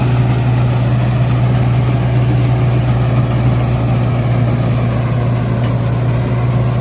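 A Mahindra Novo 655 DI tractor engine runs in fourth gear with a steady, loud low drone and a constant hum, unbroken for the whole stretch and with no talk.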